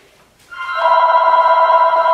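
An electronic telephone ringtone starts abruptly after a brief quiet moment and then holds a loud, steady, bright electronic trill, heard up close in an indoor art studio during acrylic pour painting.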